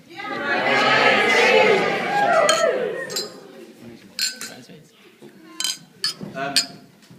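Glasses clink several times during a wedding toast to the bridesmaids. A few bright, separate chinks ring out over a lively murmur of guests' chatter in a crowded room.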